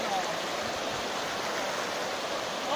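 River water at the Jinnah Barrage on the Indus near Mianwali rushes in a steady, loud, broadband roar that continues unbroken from start to end.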